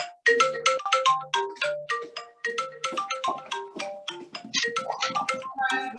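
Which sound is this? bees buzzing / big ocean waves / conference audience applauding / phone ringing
phone ringing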